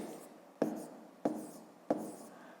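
Pen or chalk writing numbers during a fifth-grade math subtraction exercise: three short, evenly spaced tapping strokes in a quiet room, with no talk.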